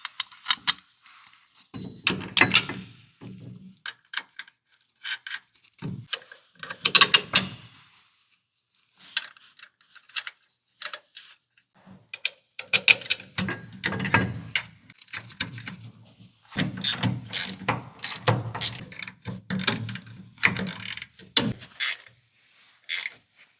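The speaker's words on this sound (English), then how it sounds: "Use the 3 bolts and nuts to attach it to the top bracket." Bolts and nuts are fastened to secure an air bag bracket on a Dodge Ram during a Rough Country suspension install, with irregular metallic clinks, taps and rattles coming in scattered bursts across a quiet, close workspace.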